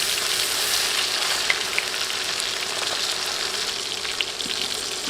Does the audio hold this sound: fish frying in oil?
yes